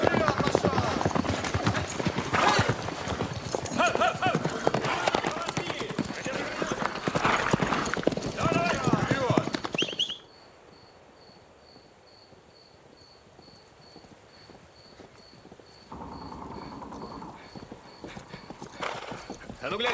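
Horse hooves clip-clop in a busy rhythm on a wartime road, overlapping with a voice, before cutting to a quieter stretch of steady chirping crickets, after which soft sounds return.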